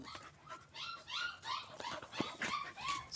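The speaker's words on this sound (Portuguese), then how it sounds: "Olha o estado desse cachorro" A dog whimpers and yips in high, whiny bursts mixed with short barks, close and fairly quiet, at an excited, restless pace.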